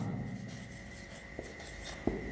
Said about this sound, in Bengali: আর একবার লিখি আমি সূত্রটি